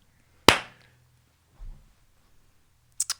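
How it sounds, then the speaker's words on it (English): A single sharp hand clap rings out near and loud, struck to sync picture and sound, followed by a soft thud and a couple of quick faint taps near the end. "I have to clap because that's how we sync up the video to the audio."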